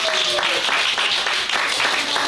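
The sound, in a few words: audience applause for Dylan in the booth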